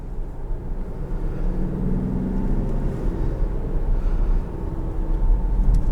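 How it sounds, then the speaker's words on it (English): 2021 Dodge Durango GT with a 3.6 Pentastar V6 and K&N intake in sport mode, a steady low engine drone and road noise heard from inside the cabin, swelling slightly toward the end. "I'll show you guys what this intake is like"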